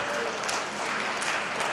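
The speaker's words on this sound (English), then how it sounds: "Let's give the junior exhibitors a round of applause." Crowd applauding the junior exhibitors at a cattle show arena, a dense, sustained burst of many hands clapping, loud and even throughout with a faint murmur underneath.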